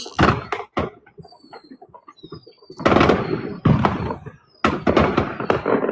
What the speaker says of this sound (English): You guys can see the fireworks.